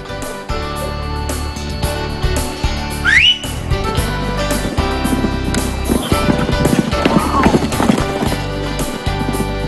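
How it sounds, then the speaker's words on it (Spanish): Horses clip-clop steadily on a visit to Shunyi, with a whistle-like neigh rising briefly, all over a constant loud background rumble. "Además, sus relinchos nos ofrecen mucha armonía."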